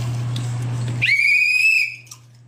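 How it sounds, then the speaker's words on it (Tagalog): A whistle is blown once outdoors at a street festival, one sharp, loud shrill blast lasting about a second, close by over a steady low hum of background noise. "Pito. I-blow mo."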